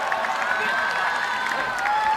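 A crowd in the Capital Gymnasium roars for the home Chinese side after a curling win at the 2014 World Men's Championship. The cheering and applause are loud, steady and continuous.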